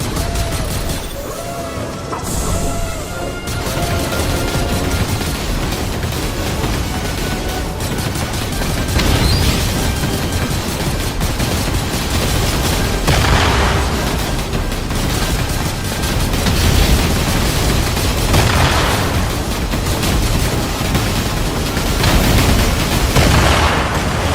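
Repeated booms and heavy blasts of cannon fire and explosions from a Fortnite Star Wars game event, a dense and loud barrage that rolls on without pause, with no voices over it.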